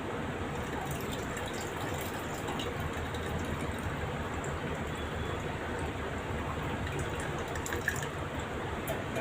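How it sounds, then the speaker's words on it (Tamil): Strained tamarind water being poured for rasam in a home kitchen, a steady close liquid pour running without a break throughout. "புளி கரைச்சிட்டேன், வடிகட்டி ஊற்றிக்கலாம்."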